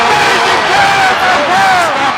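A boxing crowd roars and cheers continuously at a fight, a dense wall of voices with shouts rising above the babble, loud and sustained throughout.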